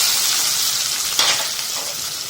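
Onions hit hot oil already crackling with whole spices and curry leaves, giving a steady close hiss of frying with a brief sharper sizzle burst midway as they go in.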